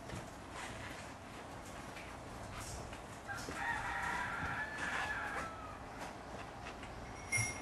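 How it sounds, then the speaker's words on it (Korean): A rooster crows once over a steady outdoor background, the call rising and held for a few seconds at moderate distance, with no talking. "저 닭이 뭐라고 그랬죠, 금방?"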